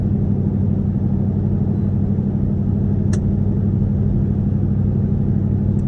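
Straight-piped Jeep with the mid muffler removed, a loud, steady low exhaust rumble heard from inside while driving, droning evenly throughout with a brief faint click partway.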